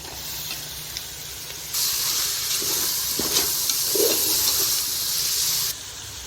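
Ground shallot paste and tomatoes drop into a hot pan for chicken biryani, and a loud, steady, hissing sizzle bursts in and holds for about four seconds over a quieter background hiss before easing off.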